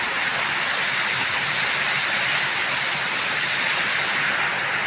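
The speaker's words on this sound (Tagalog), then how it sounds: "Ayan po, ang daluyan ng tubig." A loud, steady rush of water flowing through a channel at a hydroelectric power plant by a river, continuous and unbroken, like a strong current pouring nearby.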